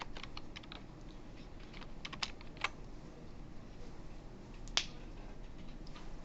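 Code typed on a computer keyboard, a close, steady run of light key clicks with a few sharper, louder strikes standing out.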